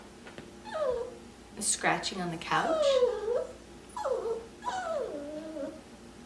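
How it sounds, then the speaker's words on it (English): Close by indoors, a dog whines in several rising and falling cries, one drawn-out whimper after another, with short pauses between them. A faint spoken remark comes early on. "I can hear a whining dog."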